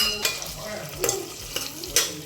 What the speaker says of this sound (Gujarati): થોડી વાર શેકાવા દઈએ ડુંગળીને.